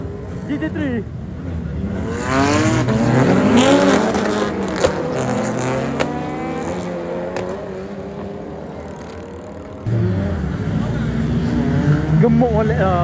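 A Porsche GT3 sports car on a Saturday-night street in Kuantan revs its engine loudly and sweeps past, the rising and falling engine note dominating while people talk nearby.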